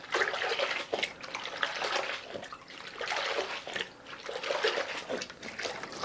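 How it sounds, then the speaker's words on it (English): Water sloshes and splashes continuously as a mop is rinsed in a bucket during floor cleaning with HDX pine cleaner, a close, steady swishing with no talk. "rinse the mop in this water right here"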